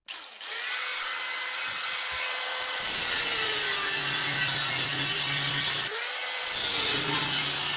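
An angle grinder cuts and grinds steel while a mini rocket stove is built, a loud sustained whine with shifting pitch that dips briefly near the end before resuming at full strength.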